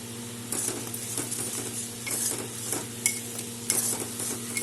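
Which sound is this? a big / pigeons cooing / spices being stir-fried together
spices being stir-fried together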